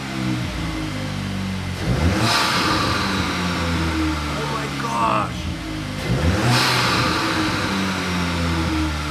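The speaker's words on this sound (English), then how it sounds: "We'll do a couple revs." A VW MK8 GTI with a Unitronic carbon fibre air intake idles, then revs twice in quick surges that rise and fall back, with a person briefly exclaiming between the revs.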